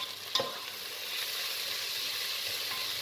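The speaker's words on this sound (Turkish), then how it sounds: "Kıymamız biraz kavrulduktan sonra şöyle biraz rengi solduktan sonra" Ground beef mince browns in a pan with a steady, quiet hissing sizzle, a brief utensil clink near the start, and no talking.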